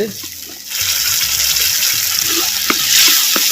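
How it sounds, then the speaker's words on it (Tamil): Tomato paste sautés in hot oil in a pan for a fried sardine fish curry, a steady close sizzle that rises sharply after a quiet start and carries on with a few stirring knocks. "சேர்த்த தக்காளி பழம் விழுதுகள் நல்லா பச்சை வாடை போகிற அளவுக்கு நல்லா வதக்கிட்டுருவோம்"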